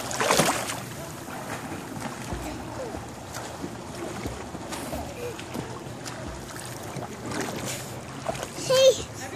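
A 3-year-old doing mermaid kicks in a pool makes light, irregular splashing with a burst of stronger splashes near the end, while a child and an adult talk nearby over breezy outdoor noise.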